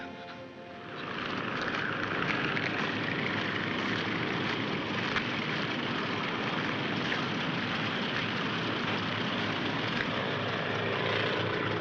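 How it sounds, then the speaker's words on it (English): A propeller airplane engine in a 1942 wartime film roars up within the first second, then holds a loud, dense, steady drone to the end, with no talking. "this is an airplane."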